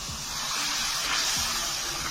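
Water poured into a hot pan of frying masala with tomatoes, black salt and white salt for a dal tadka, giving a steady, fairly loud steamy sizzling hiss that holds for about two seconds with no talking.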